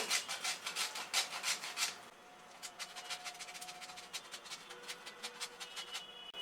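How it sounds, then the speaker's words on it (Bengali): A whole nutmeg is rubbed against a grater over a pot of cauliflower curry, giving repeated close, rhythmic rasping scrapes that start fast and strong, then continue as lighter, quicker strokes. "আর একটা জয়ফল আমি একটু ঘষে দিয়ে দিব এর সাথে"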